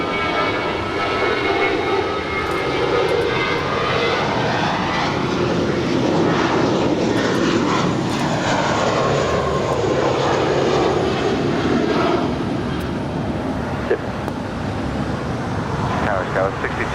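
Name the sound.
United airliner taking off from LAX runway 25 right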